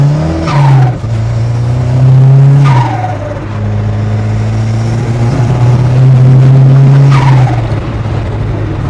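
A Ford RS Cosworth replica drives on the road, its engine droning loudly and steadily with several rising and falling pitch sweeps as it accelerates and shifts, tyre noise rolling underneath throughout.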